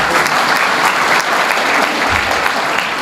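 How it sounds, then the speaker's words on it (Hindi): Dense, loud applause from an indoor audience at a public talk fills the whole few seconds as a continuous wash of clapping hands without letup. "एक पीछे से हाथ उठ गया, ताली बजाइए उनके लिए।"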